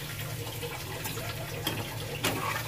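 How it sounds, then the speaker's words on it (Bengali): A little water poured into egg curry in a pan, a quiet, steady liquid trickle with a faint background hum and a couple of soft clinks. "জল দিয়ে দিচ্ছি, জল অল্প দেবো"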